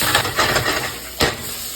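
Apples dropped into a hot pan for homemade apple fritters, with a burst of sizzling and a few pan clatters, a sharper hiss near the end, and no talking.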